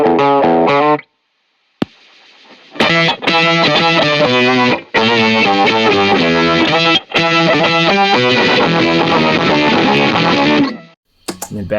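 An electric guitar's main tone runs through a MIDI pedalboard's effects, giving heavily distorted, chorus-tinged chords and riffs. It plays loudly in bursts separated by short silent gaps and ends on a brief final stab.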